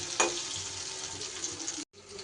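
Elephant foot yam pieces frying in a wok give a steady, soft, close sizzling hiss, briefly cut off near the end before resuming.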